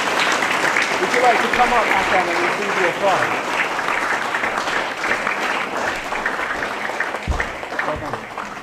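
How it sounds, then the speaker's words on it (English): An audience at a school declamation contest applauds a prize winner, continuous clapping with a voice speaking over it partway through. "Maybe a round of applause."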